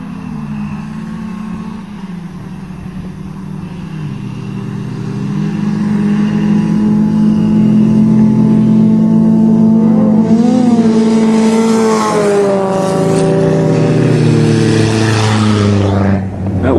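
A Volvo races among imported tuner cars, its engine droning loud and close, then revving higher with rising pitch before easing off at the end.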